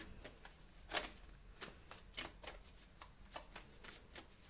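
Tarot cards are shuffled and drawn in a quiet room, producing soft, rapid riffling flicks and light snaps in a loose rhythm, faint and close, with no voice.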